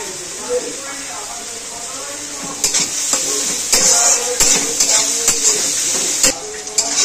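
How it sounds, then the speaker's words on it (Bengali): Onion and garlic frying lightly in a pan, a soft sizzle under a spoon stirring and scraping against metal, several clanks spread through, close up, with faint background voices. "পেঁয়াজ আর রসুনটাকে হালকা করে ভেজে নিয়েছি।"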